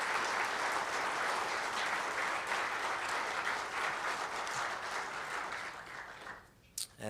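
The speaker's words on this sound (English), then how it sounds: "I think deserves an incredible round of applause for his great service." Sustained crowd applause at a veterans' hall of fame ceremony, dense and steady clapping from many hands that fades out near the end.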